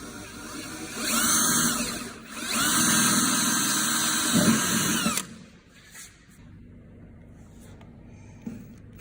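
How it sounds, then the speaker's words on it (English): A power drill bores a hole into the body of a 1982 Mazda RX-7, with two loud, whining bursts separated by a brief dip before the motor stops and the room goes quiet. "So if I drill a hole right there"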